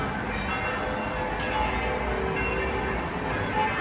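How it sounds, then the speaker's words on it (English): Church bells ringing at a distance over a constant wash of outdoor background noise at night in Tirana, Albania, no talking. "And we've got the church bells going now."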